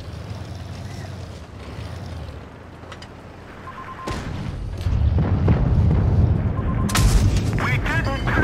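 A tank cannon fires in World of Tanks Blitz, a sharp broadband boom around the middle that swells into a loud rumbling low roar, with a second crack later over steady engine and battlefield noise while someone talks.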